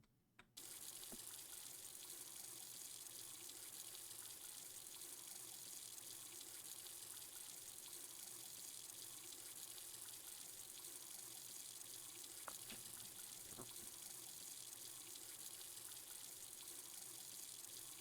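Tap water runs steadily in the video game Beacon Pines, a constant broadband hiss that starts at once and continues unbroken for the whole stretch, with no one speaking.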